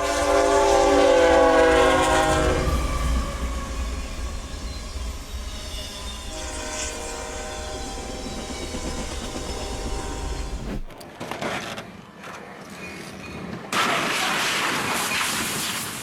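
A train roars past loudly and close, its horn sounding in long tonal blasts at a level crossing where a vehicle was struck, before the rush cuts off abruptly into quieter clatter.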